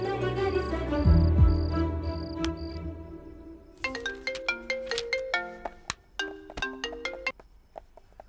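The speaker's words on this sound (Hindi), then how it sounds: "रमेश को कॉल करती हूँ।" An electronic phone ringtone plays during a call in a dubbed romantic movie, a bright melodic tone pattern that repeats, following a short musical passage, with no voices over it.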